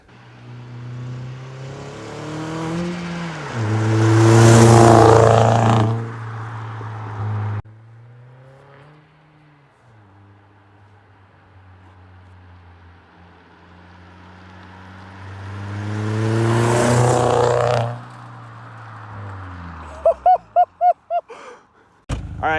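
An Audi A4 1.8T fitted with an aftermarket exhaust drives past on a dark road at night, rising to a loud throaty pass, fading, then a second revving pass, ending in sharp pops and crackles.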